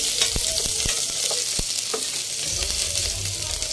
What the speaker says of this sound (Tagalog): magigisa muna tayo. Lagyan na natin yung bawang at saka sibuyas.